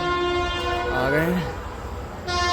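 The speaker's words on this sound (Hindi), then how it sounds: "एक ट्रेन भी आ रही है।" A train pulling into a station sounds its horn in a long sustained tone that bends and drops midway, loud and fairly close over a steady rumble of rail noise, with no talk.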